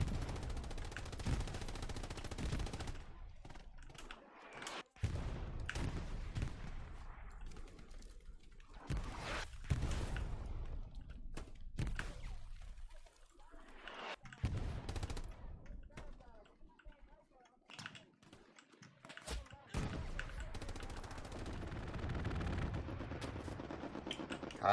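Rapid gunfire from a multiplayer shooter video game, with dense bursts of automatic fire and heavy shots crackling loudly throughout, broken by brief lulls, while players talk over the combat.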